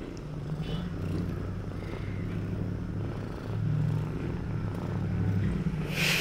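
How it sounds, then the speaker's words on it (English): A kitten purrs close up, a low steady rumbling hum that pulses in long breaths, with a faint rustle at the end. "He's purring. I don't know if you can hear that."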